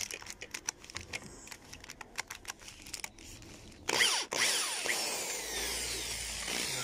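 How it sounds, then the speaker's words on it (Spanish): Screws are being removed from a Maytag washing machine transmission, first with a run of quick clicking ratchet or tool taps, then a louder whirring power-driver burst that settles into a steady hum; no speech. "vamos a retirar estos cuatro tornillos, estos dos y estos dos"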